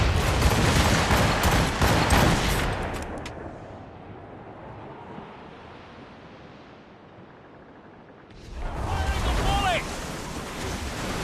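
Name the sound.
ship cannon volley in Assassin's Creed Rogue video game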